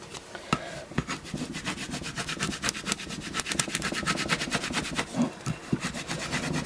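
Steady, aggressive rubbing with a soft tool over a vinyl stencil laid on a glass dish prepared for etching, a dense scraping friction with fast repeated strokes, close and fairly loud, with no voices.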